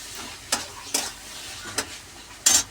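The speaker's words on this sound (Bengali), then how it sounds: "তাহলে মশলাটা কষা হোক" Masala spices fry in a pan under a constant close sizzle, while a spoon scrapes through them in four distinct stirring strokes, the last one loudest.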